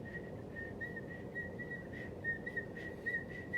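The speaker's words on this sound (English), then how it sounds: "You're a good whistler." A person whistles a steady, thin tone with slight wavering and brief breaks across the clip, fairly faint and alone over a low background hiss, no talking.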